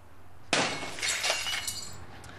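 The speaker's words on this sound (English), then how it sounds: "The glass was going to break." Window glass covered in hurricane film is whacked and breaks with a single sharp loud shattering crash, followed by a second of tinkling and crackling fragments.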